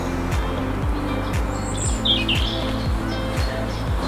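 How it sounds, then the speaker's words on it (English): Birds chirp and sing among beech, holly, silver birch and hornbeam trees in Dunwood Park, Shaw, Oldham, with several bright calls at moderate distance over a steady low rumble of passing traffic. "Our birds singing"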